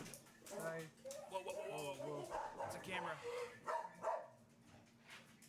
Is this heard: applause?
no